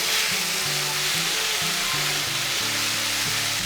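Tomato pieces and curry leaves fry in a pan for pepper rasam, giving a steady, close, loud sizzle that runs without a break and has no talking over it.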